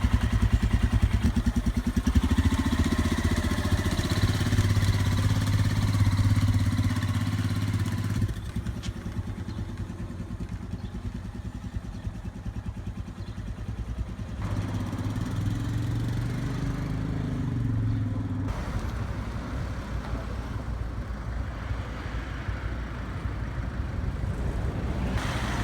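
A Royal Enfield Himalayan motorcycle is ridden with a steady single-cylinder engine drone, loud and close throughout with shifting pitch as it changes gears and speed, and no talking.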